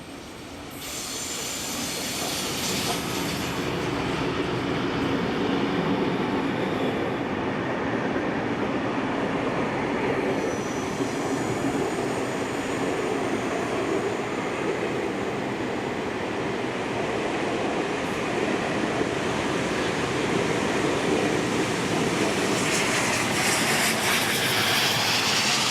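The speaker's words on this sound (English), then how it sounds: "We will now conclude the Sydney Great Train Expo with 4520 now leading the train back to Sydney." Locomotive 4520 hauls a train away from the Sydney Great Train Expo, a loud continuous rumble of rolling wagons with squealing wheels that builds and persists throughout.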